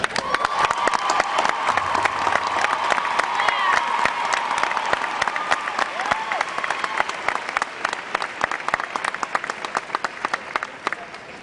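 A crowd at a school graduation applauds members of state championship teams, long sustained clapping with some cheering and voices mixed in, holding strong throughout.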